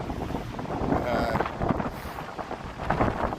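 Strong wind off Lake Michigan buffets a microphone on a Chicago street in the morning, a continuous loud rumbling roar with gusty surges throughout.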